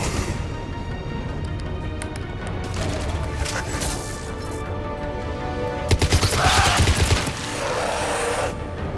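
Sustained gunfire in a Mass Effect Legendary Edition firefight against adjutants, with steady rattling shots over rumbling game ambience and a louder burst of impacts around the middle.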